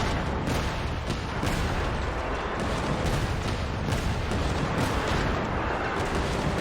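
Dense, sustained barrage of gunfire from guns in the video game Genshin Impact, loud and continuous with overlapping booming shots and no clear gaps.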